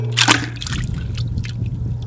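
A survival container weighted with rocks drops into water, giving one close splash followed by soft dripping and sloshing as it settles and floats, with no talk.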